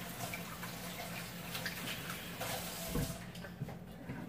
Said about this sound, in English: My hands are washed, but I will wash them again